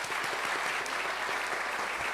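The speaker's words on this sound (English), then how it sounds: "I think we should give them a round of applause" An audience claps for Auslan interpreters at an evening conversation event, a dense, steady round of applause from many hands in a hall, with no voices over it.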